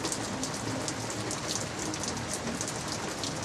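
Steady rain pours down outdoors near house eaves sheltering a Big Green Egg grill, a constant soft hiss of drops hitting surfaces with no pauses and no talking.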